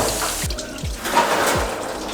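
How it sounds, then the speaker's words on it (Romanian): Water drains from a VW 1.9 TDI engine block, a continuous close trickling splash with faint low knocks. "tot ce e în bloc o să curgă doar când scoatem pompa de apă"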